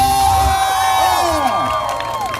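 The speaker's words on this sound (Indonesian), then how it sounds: "kasih tepuk tangan dulu untuk Bung Marcel" A live audience at a stage magic and debus show in Sukabumi cheers and shouts in a loud, continuous crowd roar, with scattered clapping, whoops and a voice over an amplified hum.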